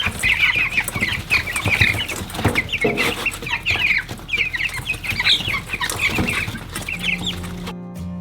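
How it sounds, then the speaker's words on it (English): A group of meat chicks clucking and cheeping steadily, close and continuous, with faint rustling underneath. "over here is our other set of meat chicks, and they need some food"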